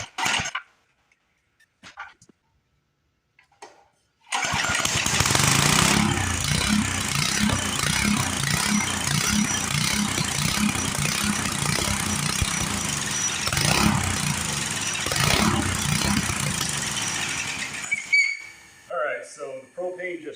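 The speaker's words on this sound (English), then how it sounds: "I fire it up at full throttle, and then I'll start feeding it some propane first" A running engine held at full throttle while being fed propane roars loudly and steadily for about fourteen seconds with a rough pulsing rumble, then cuts out and sputters to a stop, with brief quieter noises before it starts.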